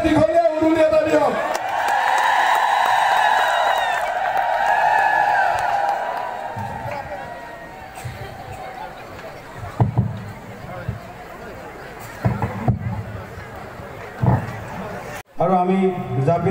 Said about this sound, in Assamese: এবাৰ আইসকলে দীঘলীয়া উৰুলি, শইকীয়াৰ কাৰণে দীঘলীয়া উৰুলি এটা দিয়ক